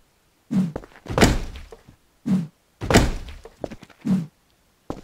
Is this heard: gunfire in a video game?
yes